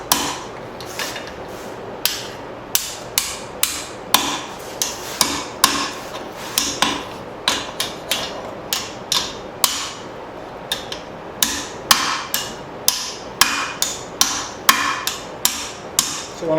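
Hammer forging a bird feeder hanger on a small anvil with a saddle angle, sharp metallic strikes repeating in an uneven rhythm, some in quick pairs, ringing close and loud across the whole stretch.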